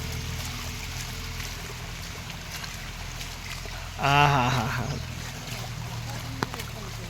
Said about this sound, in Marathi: पाणी बघा आमच्या इथनं किती येते